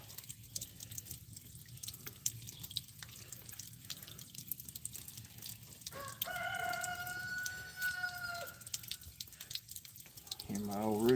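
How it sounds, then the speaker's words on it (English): An old rooster crows in the background, with one drawn-out crow that rises and holds before breaking off. A faint outdoor hum continues throughout, and a voice is heard speaking near the end. "Hear my old rooster in the background."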